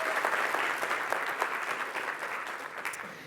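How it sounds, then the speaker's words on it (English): Applause from a conference audience at a tech keynote opening, steady dense clapping from a large crowd filling the whole moment without speech over it. "And so really, round of applause to yourselves."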